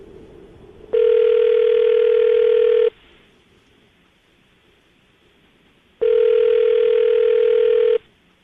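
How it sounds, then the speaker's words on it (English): Two long, steady telephone tones, each about two seconds, separated by a silent pause, like a ringback on a phone line. "I'm going to dial the phone number right now"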